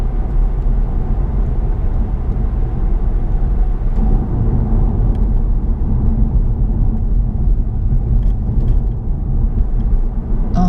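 Car driving along a road in Derby during a mock driving test, heard from inside as a steady low engine and road rumble with tyre noise, continuous and fairly loud with no talking.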